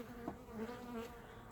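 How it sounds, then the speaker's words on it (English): Honeybees buzzing steadily around an open hive during a brood inspection, a continuous droning hum with small swells in loudness and no talk. "looks like they're all starting to buzz around and come back in"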